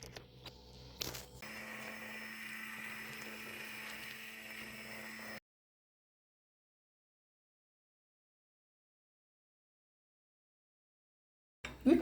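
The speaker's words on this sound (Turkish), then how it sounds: "Bu aşamada blender yapıyorum." A blender purees softened cooked strawberries with a steady whirring motor hum for about four seconds before it cuts off, followed by silence.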